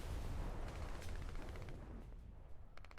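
Ju-87 Stuka aircraft guns firing in War Thunder, rapid bursts of automatic fire over a deep engine and battle rumble, dense at first and thinning to short crackling volleys at the end.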